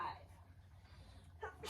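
A single sharp sneeze bursts out near the end, close and fairly loud, after a quiet stretch in an indoor classroom-style setting during a math lesson.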